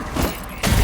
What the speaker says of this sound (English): let's do another grenade